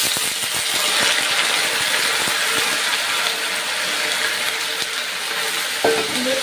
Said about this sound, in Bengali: জিরে, ধনে আর শুকনো লঙ্কা ফোড়নে দিয়েছি। আর এইগুলো সব একসাথে তেলের উপর দিয়ে দিচ্ছি।